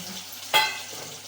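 Chopped masala tipped into a hot pan: a sudden loud hiss of sizzling bursts out, then quickly settles to a softer frying crackle, heard close with no talking.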